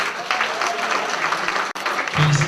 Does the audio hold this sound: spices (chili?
no